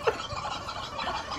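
A squeaky, gobbling fowl call rings out close by, a burst of high, reedy squawks over a steady background murmur.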